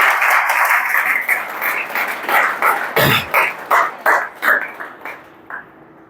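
A room of people clapping at a ceremony congratulating a new Mumbai Police recruit, dense applause that breaks into separate fading claps and trails off within a few seconds.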